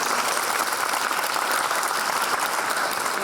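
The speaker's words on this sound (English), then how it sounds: "please join me in a warm round of applause for them" Steady applause from an audience welcoming guest speakers at a university talk, continuous and fairly close, with no voices over it.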